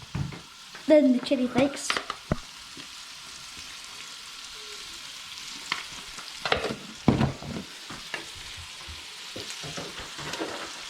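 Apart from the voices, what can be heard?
stirring fried rice in a frying pan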